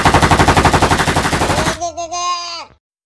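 Cartoon machine-gun fire goes off as a loud, rapid, evenly spaced burst lasting nearly two seconds, then a voice speaks briefly as the scene falls silent.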